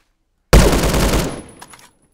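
Loud close burst of AK-12BR automatic rifle fire in the video game Phantom Forces, a rapid stream of shots lasting under a second before trailing off with a short mechanical rattle.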